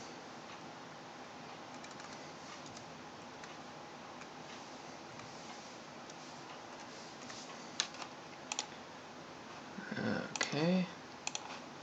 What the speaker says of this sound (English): So I just have to type in the IP.